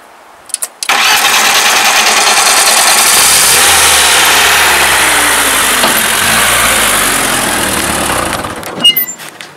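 A homemade tractor powered by a Zhiguli car engine, fitted with a T-40 rotary tiller, starts up with a cranking burst and then runs loud and close, idling and revving steadily before cutting off at the end.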